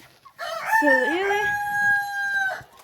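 A rooster crows nearby, one long loud cock-a-doodle-doo, with faint hen sounds in the background from a coop of older hens.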